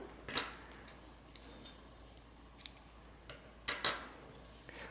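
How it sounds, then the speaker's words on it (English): Scissors snip through crochet yarn in a quiet room: a few faint, short cuts, one early and then a quick pair near the end. "Chain 1 and cut your yarn."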